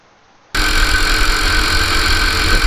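Go-kart engine on a karting circuit in Karawang, starting with a sudden loud burst and then holding a continuous, buzzing drone close to the listener as the kart runs down the straight.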